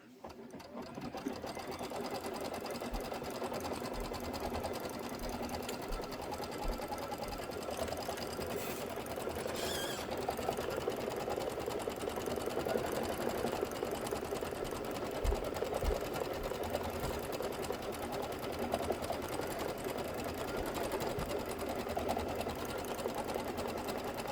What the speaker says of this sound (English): I do almost all my sewing with my dual feed foot.